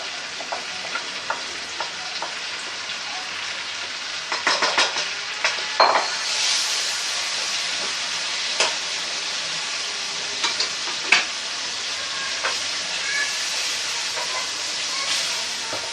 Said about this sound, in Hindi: बिरयानी के मसाले को हम अच्छी तरह भून लेंगे